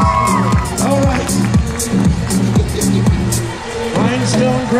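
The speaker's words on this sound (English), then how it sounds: "Give one more round of applause" A live crowd at a horror-themed show in Kings cheers and whoops loudly and continuously, over a steady rhythmic pulsing backdrop, with voices shouting throughout.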